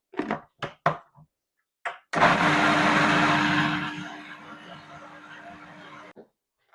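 Blender blitzing red pepper curry paste for a chicken curry, a loud dense whirring run of about four seconds that fades toward the end, preceded by brief bursts of speech.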